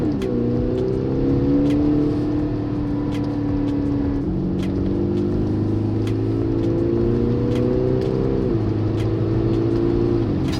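Audi SQ5 TDI with a 347 hp V6 diesel, turbocharger and 8-speed Tiptronic accelerating from inside, engine note climbing through gears with a pitch drop at each upshift, steady and moderately loud.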